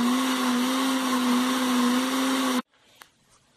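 Blender running at steady high speed, whirring loud and continuous as it beats pudding batter with grated coconut, then cutting off abruptly and leaving a faint clink and quiet room noise.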